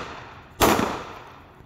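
One muffled, sharp shot from a semi-automatic handgun fired inside a purse at an outdoor range. A single loud crack fades quickly into quiet.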